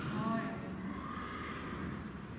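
Horses neigh faintly from stables at an equine therapy centre. A soft, distant whinny is mostly buried under people talking nearby and steady room noise.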